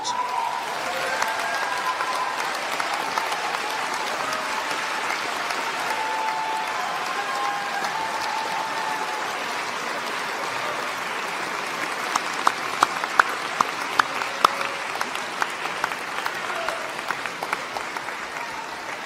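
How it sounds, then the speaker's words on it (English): An audience at a graduation ceremony applauds in a sustained, dense wave of clapping that runs steadily throughout, with a few sharper individual claps standing out near the end. "give them one round of enormous applause to thank them for their support"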